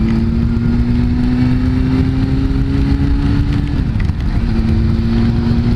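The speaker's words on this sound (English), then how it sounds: "Easy on the gears, really with any motorcycle." A liter-class sportbike engine drones and revs up close, its pitch climbing steadily then dropping sharply before settling back into a loud, even engine note, with no talking.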